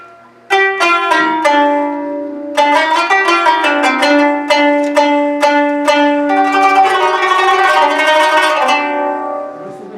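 A plucked qanun zither rings out in quick, bright runs of notes, strings resonating and decaying, played solo and close.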